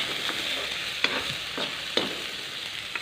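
A pan sizzles steadily while ingredients for squid adobo are stir-fried, with a constant bright hiss broken by sharp utensil scrapes roughly every half second and no talking.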